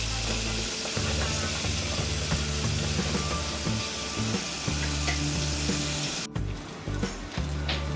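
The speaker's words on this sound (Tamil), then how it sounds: "வெங்காயம் நல்லா வதங்கி வரட்டும்." Onions sautéing with salt in a frying pan for an okra fry, giving a steady broadband sizzle with stirring scrapes and a low background hum, briefly cut off near the end before resuming.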